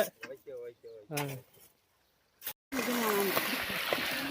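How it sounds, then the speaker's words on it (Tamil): Water gushing from the outlet of a 3 hp solar-powered pump, a sudden loud rushing splash that starts after a pause and continues steadily, following brief talk from people nearby. "ஓகேவா தண்ணி வருது"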